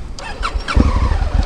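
A Honda Africa Twin DCT motorcycle with a standard exhaust catching on the starter and settling into a low, throbbing idle close by, after a few brief chirps at the start.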